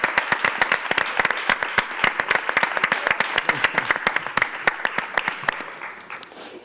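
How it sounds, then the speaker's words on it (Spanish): An audience at a theatre-arts round-table discussion claps for several seconds, the claps sharp and distinct and fading toward the end. "Enhorabuena, un aplauso, ¿no?"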